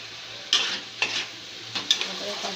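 Paneer curry masala being sautéed in a pan: a gentle sizzle under four distinct stirring scrapes that rise and fade, nearby, with no one speaking.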